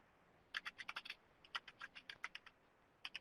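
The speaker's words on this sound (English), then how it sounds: "We do hear people typing." Quiet clicking of fingers on a computer keyboard, irregular bursts of keystrokes with short pauses, close by and without voices.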